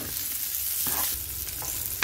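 Julienned onion sautés in a hot pan with a steady sizzle broken by a few soft stirring scrapes, close and continuous.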